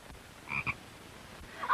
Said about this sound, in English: Oh, a frog!